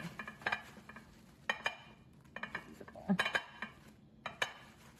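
Hard clinks and clattering knocks of a glass baking dish set down on a granite countertop, several sharp taps in irregular bursts close by, with quieter stirring between.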